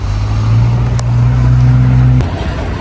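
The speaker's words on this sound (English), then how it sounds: "half exhaust straight pipe has a nice sound to it, doesn't it?" 2008 Chevy Avalanche V8 idling through a half exhaust straight pipe, a loud, steady deep rumble close by that cuts off abruptly near the end.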